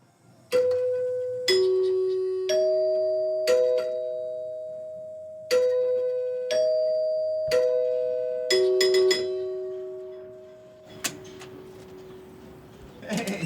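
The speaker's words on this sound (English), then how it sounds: "Should I ring the doorbell?" A doorbell at the home of Louis Armstrong rings a series of two-tone ding-dong chimes, each struck note ringing out and decaying, repeated about eight times in an irregular rhythm, loud and close with no talking.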